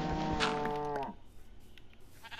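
A cow in the video game Minecraft lets out one loud, close, drawn-out moo lasting about a second, followed by quiet background.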